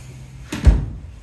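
A warped wooden greenhouse door opening or closing, heard as a single close, fairly loud knock and thud with a short rattle after it, with no talk.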